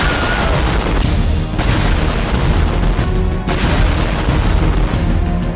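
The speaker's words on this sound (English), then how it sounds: "I'm gonna see if this city can survive a giant explosion." Giant explosion destroying a city in a simulation video game: loud, sustained rumbling blast with roaring, crackling debris and repeated booms filling the whole stretch, no voices.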